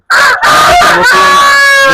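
A hill rooster crows loudly and close by in one long, drawn-out call, with chickens nearby.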